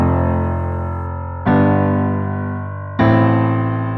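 Piano playing a slow chord progression from a Xenoblade 2 soundtrack passage, three sustained chords struck about a second and a half apart, each ringing and decaying, close and clear with no talk.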